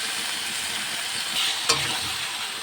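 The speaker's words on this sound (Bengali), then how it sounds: "তারপরে মাংস কষানোর জন্য মাংসগুলো দিয়ে দিলাম" Chicken pieces stir-frying in a pan for a potato chicken curry, a steady close sizzle with a brief clatter of stirring partway through, and no voices.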